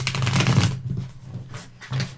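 A Star Trek: The Next Generation tarot deck is shuffled up close, with a dense rustling burst of cards followed by two shorter flicks.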